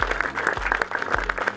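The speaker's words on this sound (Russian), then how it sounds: "Ваши аплодисменты." Audience applause at a flat feeder fishing competition prize ceremony, steady dense clapping from a crowd throughout, close and fairly loud.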